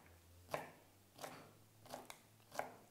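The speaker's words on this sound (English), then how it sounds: "So we do just chop that up." A knife chops food on a cutting board for a Guyanese chicken patty pie filling, four quiet, evenly spaced cuts about two-thirds of a second apart, close and alone without talk.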